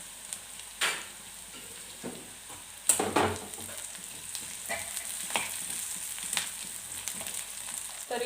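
Onion and tamarind fry in a pan, a steady close sizzle broken by several sharp scraping stirs, with no talking.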